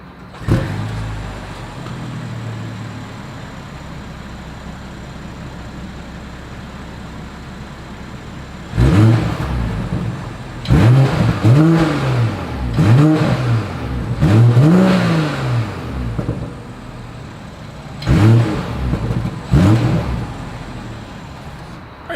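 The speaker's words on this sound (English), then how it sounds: "As always, here is that exhaust clip." A 2021 BMW X5 xDrive40i idles steadily, then its exhaust barks through several sharp, loud revs in quick succession, each rising and falling, with pauses between bursts and a final pair of blips near the end.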